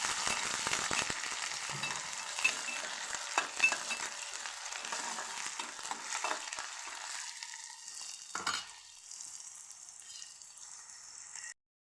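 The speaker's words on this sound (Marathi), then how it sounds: "मी हिरवी मिरची आणि कांदा टाकून घेणार आहे छान असं परतून घेणार आहे" Green chillies and onion with curry leaves fry in hot oil for a matki usal, a dense close sizzle with stirring scrapes that fades abruptly after a clatter into a thinner hiss, ending in silence.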